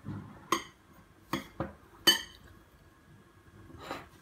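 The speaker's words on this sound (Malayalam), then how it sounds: "തേങ്ങ ശർക്കര ഒന്ന് മിക്സ് ചെയ്യുക" Grated coconut and jaggery get mixed in a bowl, a few sharp clinks of a spoon against the dish spaced irregularly among quiet soft stirring, close by.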